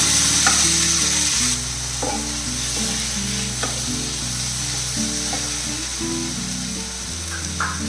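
Chopped tomatoes sizzle and fry in a pan, a steady loud hiss with occasional stirring scrapes and clinks throughout.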